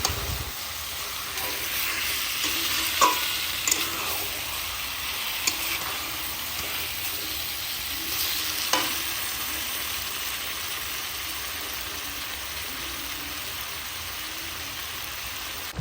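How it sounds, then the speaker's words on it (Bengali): Mutton pieces fry in a pan with a little oil, salt, chilli, turmeric, cumin, coriander and biryani spice powders, giving a steady low sizzle with occasional soft stirring scrapes and clinks throughout, no talking. "এখানে আমার মাংসটা কষানো হচ্ছে এখনও পুরোটা কষানো হয়নি"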